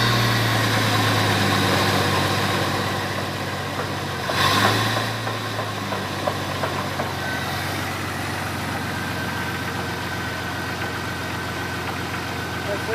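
A Jeep engine idles with a steady low rumble as one wheel is spun, the vehicle's steering knuckle broken; a brief surge near the middle suggests a light rev before it settles back to a constant idle.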